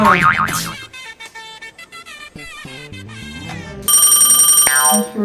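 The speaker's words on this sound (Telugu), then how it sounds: "ఫోన్ చేస్తున్నాడు, ఫస్ట్ కాల్ ఏమో." Electronic phone ringtone for an incoming call in a comedy skit: a bright, repeating musical tone pattern that plays on loudly for several seconds with no talking over it.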